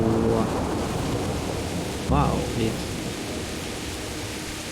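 Thunderstorm in the medieval game Kingdom Come Deliverance: a dense, steady wash of rain and rumbling noise throughout, with a brief voice cutting in midway.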